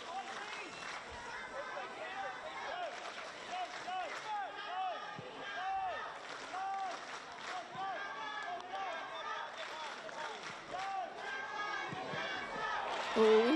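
Home crowd at an A-League football match between Newcastle Jets and Perth Glory, a steady distant roar of supporters filling the stadium throughout, with a commentator talking over it.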